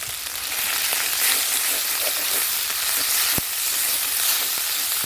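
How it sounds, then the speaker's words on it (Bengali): Masala paste fries in a pan as a dried red chilli paste goes in. A steady, loud crackling sizzle runs throughout, with a few sharp pops and the occasional clink of a utensil, and nobody speaks. "ভালো করে কষে নিয়েছি এবার আমি দিয়ে দেব শুকনো লঙ্কা বাটা"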